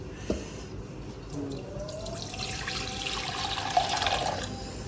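Soya chunk cooking liquid pours steadily into a pan of masala up close, a gurgling splash that builds gradually over a few seconds.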